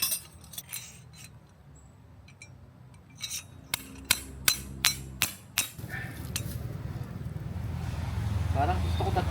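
A series of sharp metallic strikes from a hammer driving tent pegs into the ground, around eight in a quick uneven rhythm, close by, followed by rustling and ground noise; voices talk nearby at a campsite.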